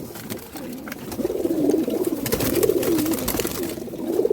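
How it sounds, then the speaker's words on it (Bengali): A pigeon raised at home coos repeatedly at close range, its low rolling calls rising and falling in a steady rhythm over faint background rustling. "আমি একটা কবুতর ধরে দেখাচ্ছি বন্ধুরা"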